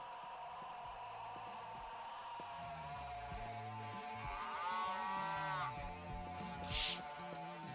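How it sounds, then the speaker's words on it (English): A distorted cow moos twice in the horror game Happy Humble Burger Barn, a low drawn-out bellow under eerie droning ambience, followed by a short sharp electronic blip near the end. "It's the weird cow."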